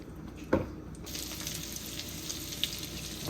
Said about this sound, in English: we're gonna drop it into a pan with about 1/3 stick of butter and about a tablespoon of olive oil